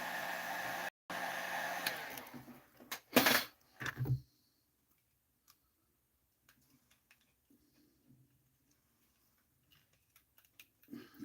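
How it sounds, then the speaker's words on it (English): A heat gun blows a steady broadband roar on a part for about two seconds, cuts out briefly, then runs in a few short bursts before stopping, leaving near silence with faint scattered clicks. "You heat this up real quick just to double check."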